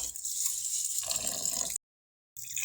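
Basmati rice is rinsed in water, a close, steady splashing and trickling that cuts to silence for about half a second before resuming briefly.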